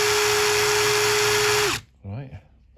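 A power drill runs steadily and loudly with a high whine, then winds down and stops, followed by a brief voice.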